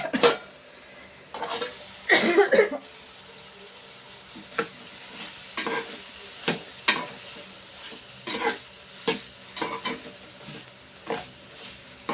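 Chana dal frying in a pan, a soft sizzle beneath a string of sharp scraping and stirring knocks at irregular intervals, close by, with a louder clattering burst early on.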